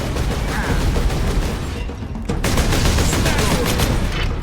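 Bolter gunfire in the video game Warhammer 40K Space Marine, a loud continuous fusillade of rapid heavy shots with a brief lull midway before the firing resumes.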